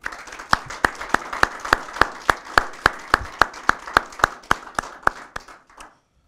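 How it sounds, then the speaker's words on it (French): Audience applause at a closing and awards ceremony, a steady run of crisp, evenly spaced claps with a dense crowd wash underneath, sustained for about six seconds before cutting off abruptly. "J'aimerais qu'on les applaudisse également."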